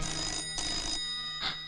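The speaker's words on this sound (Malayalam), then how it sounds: "ആരേലോ ഫോൺ എടുക്ക്." An indoor telephone rings in two electronic bursts followed by a shorter third tone, close and clear, with no talking.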